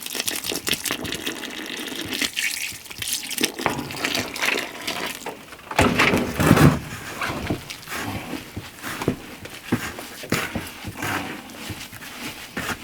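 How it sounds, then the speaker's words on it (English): Water splashes and pours into a thick seed-starting soil mix, with uneven sloshing and stirring noises, close and moderately loud throughout. "Add a little bit more water into it."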